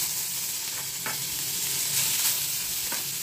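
Onion paste frying in a tempering of black cardamom seeds, giving a continuous hissing sizzle with faint scattered clicks and soft stirring.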